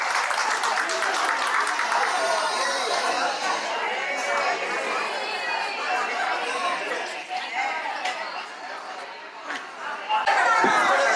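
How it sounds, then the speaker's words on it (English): Audience applause for a retired teacher at a school alumni meet, steady clapping from a crowd mixed with chatter and a little laughter throughout, with voices talking over it. "Big round of applause for ma'am."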